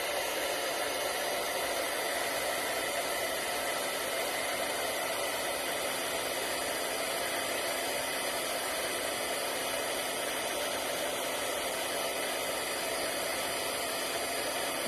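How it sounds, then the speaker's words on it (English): An old heat tool blows hot air steadily for card making, a loud, constant broadband whoosh with a motor hum that runs unbroken and close for the whole stretch, with no talking. "I have an old heat tool, but this is going to be loud for a second"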